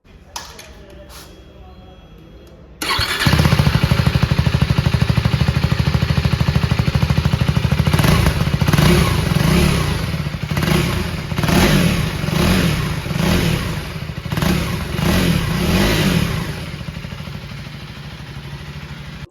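A KTM Adventure 390 2025 model with an underbelly exhaust starts up and idles loudly nearby, then revs repeatedly in rhythmic bursts, with someone talking over it.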